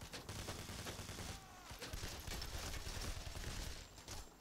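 Gunfire in the video game Payday aimed at the player, with dense overlapping shots and bursts forming a steady loud fusillade throughout, no talk.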